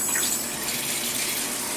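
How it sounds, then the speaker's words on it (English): Tap water runs steadily into a container holding two developed film reels for washing, a close, continuous gushing hiss with no talking. "We turn on the water."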